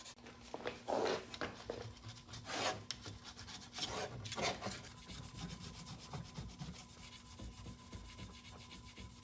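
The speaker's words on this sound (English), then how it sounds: "Just using a Scotch-Brite pad to clean up the old gasket material that was on there." A Scotch-Brite pad scrubs old gasket material off an aluminum Tremec TKO600 transmission gasket surface, with quiet repeated rasping strokes, a few louder bursts early and then steady lighter rubbing.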